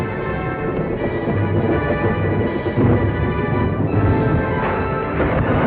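Thunderstorm rumbling with heavy rain around an aircraft in flight, a steady dense roar with rolling thunder swelling throughout, loud and continuous with no talk.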